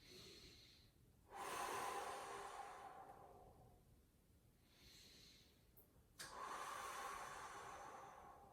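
A person takes slow, deep breaths during a hip stretch, with two long airy inhales and exhales close to the microphone, quiet and rhythmic, with no talking.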